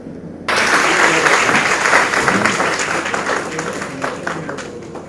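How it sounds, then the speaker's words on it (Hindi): Audience at a university event applauds loudly and steadily, a dense wash of many hands clapping that starts abruptly and carries on for several seconds. "जरा ऊंचा तालियां आनी चाहिए।"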